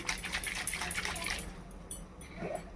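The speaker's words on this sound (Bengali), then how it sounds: "এবার এই বাটিটা ধুয়ে, এই দেখো বাটিটা ধুয়ে আমি জলটাও দিয়ে দেবো।" Water splashes and pours while a bowl is rinsed out and emptied into a steamed katla fish curry, a soft continuous gush that fades into quieter trickles.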